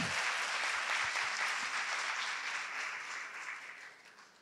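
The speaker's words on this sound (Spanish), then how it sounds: "pido un fuerte aplauso para este gran grupo" Applause from an audience at a university nursing academic session for a project team, many hands clapping steadily at a moderate level, with a few low thumps early on, gradually fading toward the end.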